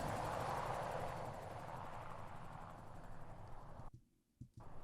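A helicopter's rotor thumps and engine whine drone steadily, then drop away abruptly near the end, quiet and somewhat distant.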